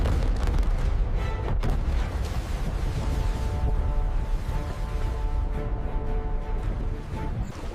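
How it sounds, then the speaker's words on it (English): Massive naval guns of a warship firing, rendered as a loud, continuous rumbling boom with a sharp blast near the start and a long rolling roar that persists throughout. "whenever it fired its massive guns, the recoil didn't just push the ship back"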